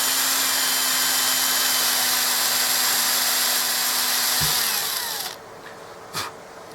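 A power drill with a 2.5mm bit whines steadily at high speed drilling plastic fret dots in a guitar fretboard, then winds down and stops, followed by a brief short burst before quiet.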